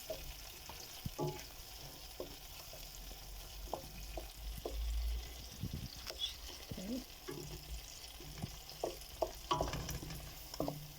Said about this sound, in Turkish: Ve bunları da birazcık yağda çeviriyorum.